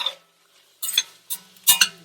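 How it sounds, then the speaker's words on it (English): Black beans being stirred into a pot with a utensil, giving a few short scraping, clinking strokes with near silence between them and no talking. "We're just going to add our beans and mix them in."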